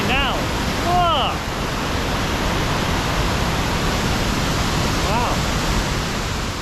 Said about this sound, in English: Look how much water is coming down.